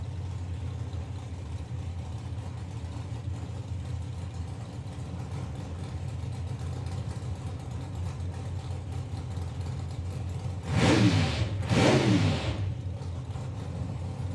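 Two drag racing cars, a Vauxhall Victor and a Ford Cortina, idle with a low, steady engine rumble at a Sportsman Nationals drag strip, then rev hard twice in quick succession near the end, loud and close.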